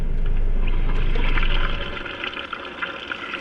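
Water trickling and splashing steadily, louder and fuller for the first half before thinning to a lighter, uneven dribble.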